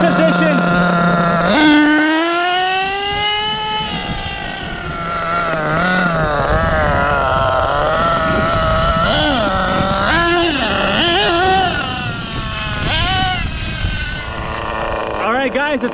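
Losi 8IGHT nitro RC buggy running a stock engine, a high, buzzing whine that rises and falls steadily as it races off, with a voice talking over it throughout.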